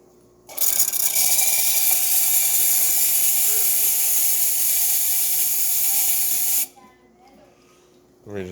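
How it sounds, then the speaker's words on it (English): A loud, steady hiss of the steam wand on a freshly serviced Rocket R58 espresso machine blasts for about six seconds, then cuts off abruptly, leaving near silence. "Let's test the steam."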